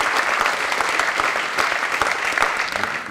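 An audience at a debate luncheon gives a warm round of applause, steady dense clapping from a seated crowd lasting a few seconds and fading slightly at the close.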